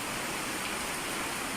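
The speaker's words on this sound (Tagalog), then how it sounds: "Sobrang lakas pa rin po ng ulan sa labas" Torrential rain from a typhoon roars outside without a break, a thick, even wash of noise with no voices.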